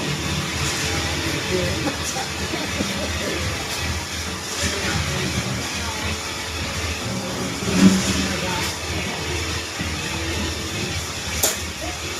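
A farm machine engine running and revving, a rough steady motor drone that swells at times, with people talking over it.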